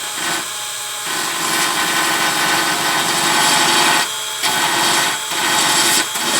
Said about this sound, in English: how I'm going to get the paint off is very carefully with my belt sander